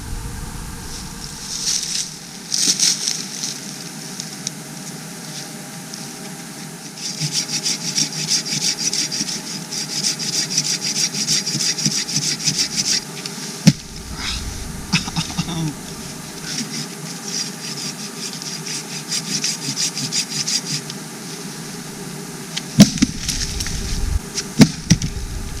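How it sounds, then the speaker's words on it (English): Hand saw cutting through hardwood on the Appalachian Trail near Duncannon, Pennsylvania: repeated bursts of rasping strokes, close and fairly loud, separated by quieter pauses, with a few sharp knocks. "Here's where I cut. And it's some hardwood."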